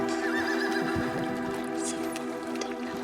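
Horses neigh and whinny repeatedly over a steady droning background, with a few soft clip-clops and watery drips in a folk-tale scene of strong, tossing-headed horses crowding a lakeshore.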